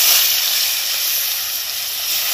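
Koi fish frying in a pan of hot oil on a high flame, a loud, constant close sizzle and hiss with no talking.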